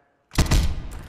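Gunfire in the VR shooter Tactical Assault VR: a sudden loud burst after a brief near-silence, with a couple of sharp reports blurring into a sustained, booming rumble that slowly fades.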